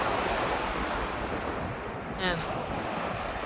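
Sea waves wash on the coast of the island of Crete in a steady surf roar mixed with wind noise on the microphone, while someone says a word.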